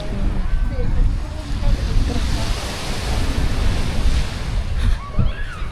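Loud, continuous surf roars and crashes throughout, with a steady wash of wind noise and faint voices in the background.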